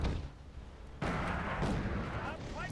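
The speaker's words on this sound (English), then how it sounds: "There's the mortars." Mortar fire in the strategy game Wargame Red Dragon: a heavy, rumbling barrage of booming impacts, with a sharp louder blast partway in and continuous dense explosions afterward.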